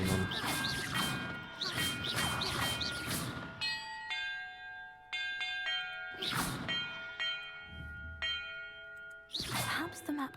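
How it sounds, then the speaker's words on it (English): Bells in Hogwarts Legacy ring out in a sequence during a puzzle, with clanging strikes and long shimmering metallic tones that decay and overlap, mixed with bursts of game noise. "Perhaps the map contains clues about the order I'm supposed to ring the bells in."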